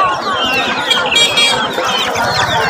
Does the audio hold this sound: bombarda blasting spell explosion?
no